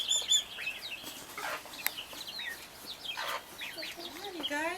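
Young chickens crowded in a coop, giving soft overlapping clucks and chirpy peeps at low to moderate level, with a faint voice in the background.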